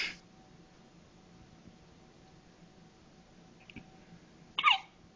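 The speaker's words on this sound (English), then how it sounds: "Somebody's got the hiccups." A day-old baby hiccups once, sharp and close, after a few seconds of near silence with faint rustling and a small breathy sound just before it.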